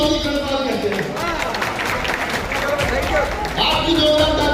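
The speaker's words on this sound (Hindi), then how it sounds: "आपकी जोरदार ताली चौधरी साहब।" Applause and crowd noise from an audience at an award ceremony in Bulandshahr, a dense wash of claps running steadily under loud voices and chatter throughout.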